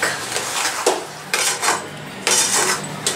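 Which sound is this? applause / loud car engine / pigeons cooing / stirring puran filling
stirring puran filling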